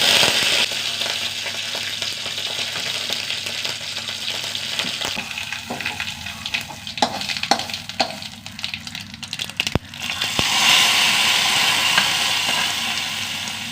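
Dried red chillies and curry leaves sizzle loudly in hot oil with mustard seeds, a continuous crackling fry with sharp pops and spatters over about fourteen seconds.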